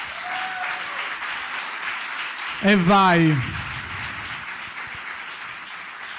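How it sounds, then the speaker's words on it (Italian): Audience applause runs through the clip while a voice speaks Italian over it, with a brief louder vocal moment near the middle. "Applauso."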